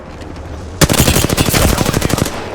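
Automatic weapon fire in the online shooter Apex Legends, a sudden loud burst of rapid, evenly spaced shots lasting about a second and a half, close and alone over quiet game background.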